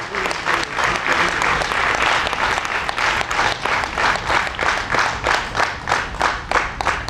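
A crowd gives loud, dense applause at an award ceremony. It runs without a break through the whole stretch, with a steady rhythmic pulse of many hands clapping together.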